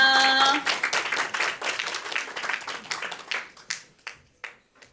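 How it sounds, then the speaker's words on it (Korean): An audience at a vocational high school career information session welcomes a department head with loud applause that thins out into scattered, individual claps before fading to silence. "여러분 큰 박수로 맞이해 주세요"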